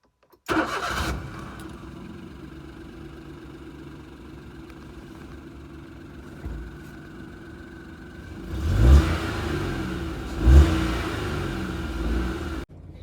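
A manual car's engine cranks and catches while the car is stationary, settles into a steady idle, then is revved twice in quick surges near the end; no one speaks.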